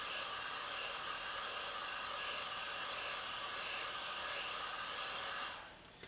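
A heat gun warming vinyl graphics on an ATV so they lay down, a steady faint blowing hiss that runs evenly and then cuts off near the end, with no talking.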